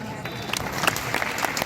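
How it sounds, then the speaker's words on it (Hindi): Audience applause at a poetry recital during a Ramlila festival in Rath: a brief spatter of hand claps, moderately loud, with a voice murmuring underneath. "जोरदार तालियां उठे भाई प्रवीण राही के"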